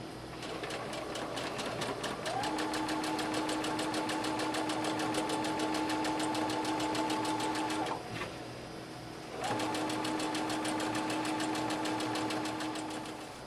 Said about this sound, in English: I'm going to sew a straight stitch all the way along